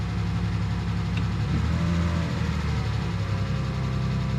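Rough, uneven engine of a derelict grey bumper Mercedes SUV with 237,937 miles, fire-damaged, running just after starting; a steady low rumble with a slight waver, near and continuous throughout.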